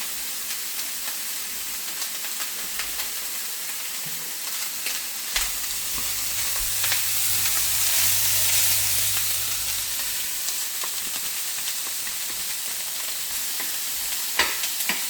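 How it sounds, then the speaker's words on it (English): Steady sizzling and crackling of bacon frying in a pan, a constant bright hiss with a low hum rising briefly in the middle. "First off for the cobloaf, we're going to fry off the bacon."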